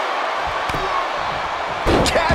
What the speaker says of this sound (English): Shot after shot, they're slamming their face down.